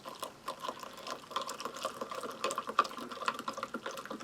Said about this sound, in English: mix that with some nice hot water